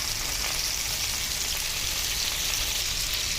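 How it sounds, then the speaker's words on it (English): Meat searing in a hot pan with a loud, even, hissing sizzle that holds steady throughout, with no voices. "we're going to make sure it's seared very nicely on all 4 sides"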